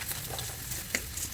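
Dried red chillies frying in hot oil, a steady close sizzle with faint stirring clinks, no talk over it.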